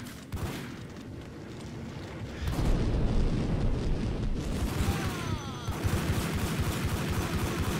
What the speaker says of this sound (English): Frag out! I literally smacked that dude with a grenade.